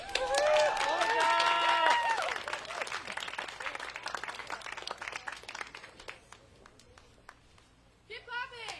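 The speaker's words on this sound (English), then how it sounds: "Keep clapping!" A small audience at a summer concert claps for a guitarist stepping onstage, scattered hand claps that thin out into a few individual slaps as the applause fades, with voices calling out over the start.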